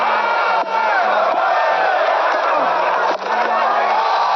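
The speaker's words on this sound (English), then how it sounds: "Really warmly appreciated by the crowd." Cricket match crowd cheering and applauding warmly, a broad steady roar of many voices and claps filling the whole stretch, with a low musical tone running beneath.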